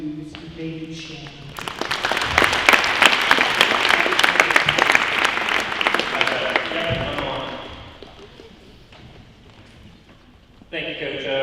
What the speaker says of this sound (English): So nice round of applause to Mr. David Schemm.